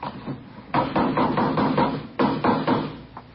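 A hammer strikes a homemade wooden coaster cart in a run of close, fairly loud knocks, with a few spaced blows first, then a quicker burst, a pause and a final few hits.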